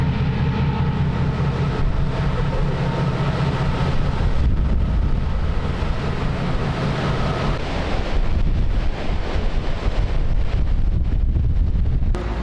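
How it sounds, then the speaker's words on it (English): Strong wind buffets the microphone aboard a ferry heading to Victoria, Canada, with a steady loud rush of air and water and a low engine rumble underneath, no talk. "We're out here on the ferry, heading over to Victoria, Canada for show number 1."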